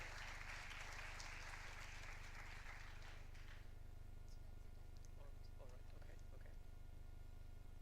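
Audience at a sports start-up conclave applauds for the first few seconds, a quiet, distant wash of clapping that fades out, leaving low hum and faint scattered sounds.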